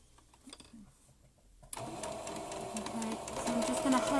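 A sewing machine hems the edge of a flannel face mask, running steadily after a quiet start with faint handling sounds, its whirring growing louder toward the end.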